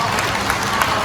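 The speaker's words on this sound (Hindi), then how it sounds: "अपने लिए जोरदार ताली" Brief burst of dense audience clapping at a gathering in Hisar, Haryana, loud and continuous with a couple of sharper claps standing out.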